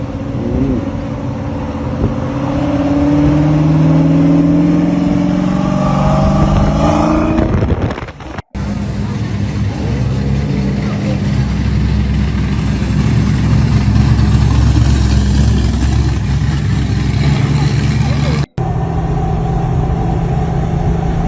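A 1000-horsepower Ford Mustang engine runs loud and close, with a steady, heavy low rumble that holds for about eight seconds. It then surges into a sustained roar that carries on to the end, broken by two brief cuts.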